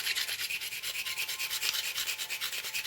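The edge of a stone slab is ground for flintknapping, giving a steady, rapid rasping scrape in even, rhythmic strokes. It sounds close and dry, with no voices.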